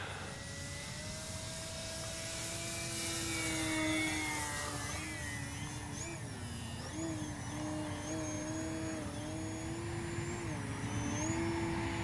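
An E-flite Sportix RC airplane flies overhead with a steady electric motor whine that rises and falls in pitch as it manoeuvres, fairly distant over outdoor wind noise.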